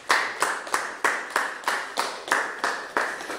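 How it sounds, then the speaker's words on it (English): A church congregation claps for the Lord in a slow, steady unison beat, about eight sharp hand claps evenly spaced and close, with nothing else over them. "we can clap for the Lord Jesus Christ."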